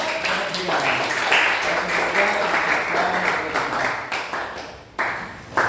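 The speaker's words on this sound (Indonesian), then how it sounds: "Kita beri aplaus kepada kelompok." Applause for a presenting group in a classroom, steady close clapping from many hands that fades slightly near the end before a few last claps.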